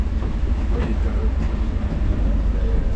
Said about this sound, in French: On va aller prendre le métro pour aller rejoindre l'aéroport de Orly.